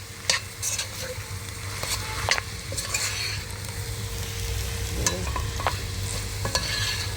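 Potatoes fry in a pan for Turkish patates kavurması while being stirred, a constant sizzle under repeated scraping and clinking strokes of the utensil against the pan.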